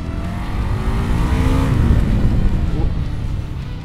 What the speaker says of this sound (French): Je coupe vraiment la vitesse pour qu'elle tourne et je réaccélère.